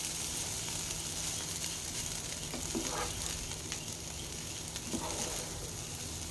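Egg fried rice tossed and stirred in a hot pan, street style, with a constant dense sizzle and crackle of frying and occasional soft scrapes of the spoon, steady and close, no talk.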